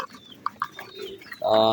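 Pigeons in a loft making soft scattered coos and short clucking calls, followed by a louder, sustained cooing call close by at the end.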